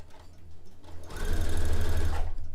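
A sewing machine stitching fabric made from bed sheets, starting with a few slow clicks, then running in a fast, even mechanical rattle for about a second before slowing, no talk.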